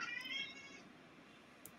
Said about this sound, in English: there is a cat somewhere.